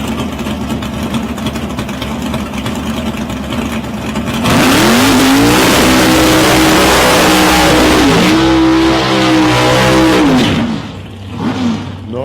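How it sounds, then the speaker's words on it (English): A HG Monaro and a Chevy Camaro drag car at South Coast Raceway doing a tyre-warming burnout, engines loud and close, roaring and revving with rising and falling pitch for several seconds before easing off. "Nice tyre warm and burnout from these guys"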